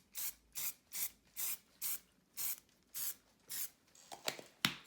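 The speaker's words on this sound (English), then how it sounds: "let's spray fix" Aerosol fixative sprayed onto a front-view car rendering drawing in repeated short bursts, about nine even hisses in a steady rhythm, close and fairly quiet, with a few sharper handling noises at the end and no talk.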